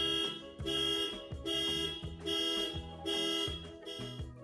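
A car alarm blares in a loud repeating cycle of harsh electronic tones, pulsing rhythmically about once a second with no voices.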